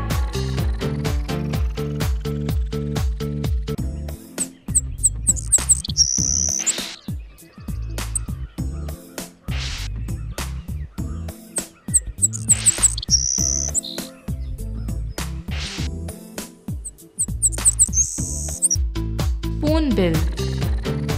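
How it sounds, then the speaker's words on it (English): Sparrow chirping in short high bursts of a few notes each, repeated several times over a loud, rhythmic music backing that dominates the mix. "Sparrow."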